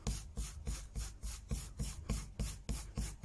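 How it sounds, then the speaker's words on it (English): A Garryflex abrasive block scrubs rust off a Stanley knife blade in about ten quick, even back-and-forth strokes, each a close, dry rasping rub. "just by going over with the Gary Flex block, you can get all that rust off"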